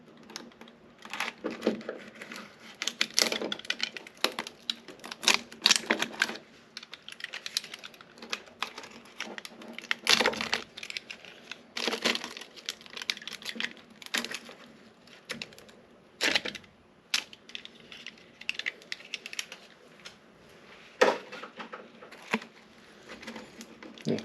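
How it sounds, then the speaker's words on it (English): Knife trimming excess tape off a DIY sailboat hull: irregular close scraping, tapping and crinkling bursts spread across the stretch, fairly quiet with short pauses between strokes. "let me try to cut some of this extra tape off here with the knife first"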